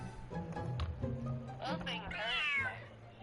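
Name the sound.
cat meowing and hissing in the video game Genshin Impact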